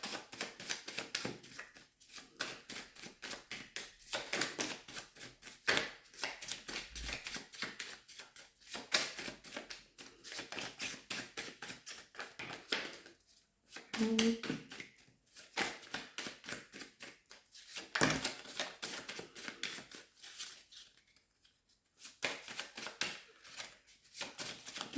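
Tarot cards are shuffled by hand in quiet, rapid clicking bursts, repeated rounds of fluttering taps separated by short pauses.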